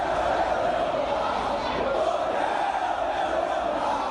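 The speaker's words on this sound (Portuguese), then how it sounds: "Foi só o Flamengo anunciar Conca para a torcida festejar." Flamengo football fans celebrating the announcement of Conca's arrival, a dense roar of crowd chanting and shouting that stays loud and continuous throughout.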